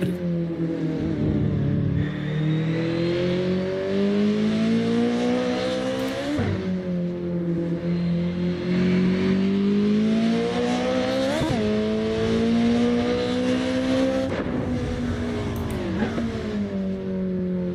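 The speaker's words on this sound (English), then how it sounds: "I like the sound of the exhaust on it." A race car engine in the video game Assetto Corsa drones loudly and continuously, its pitch climbing through the gears with sharp drops at each shift, several times in a row.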